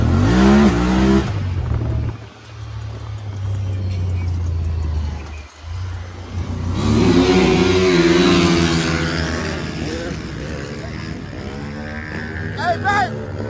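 Motorcycle engines rev hard at a bike meet on a lot during a ride out with wheelie competitions, rising and falling roars close by with a brief tire squeal, while people shout and talk over the noise.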